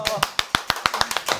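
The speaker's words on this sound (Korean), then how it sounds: "박수!" An audience at a Korean talk event applauds a guest being introduced, giving about nine sharp, evenly spaced claps in a quick steady rhythm.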